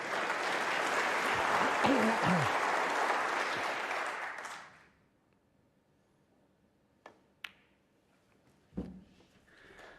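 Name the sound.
snooker crowd applauding frame win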